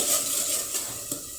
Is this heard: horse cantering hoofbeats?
no